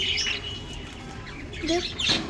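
Several pet birds kept at home give a few short squawks and chirps close by, one at the start and a louder pair near the end, with a quiet gap between.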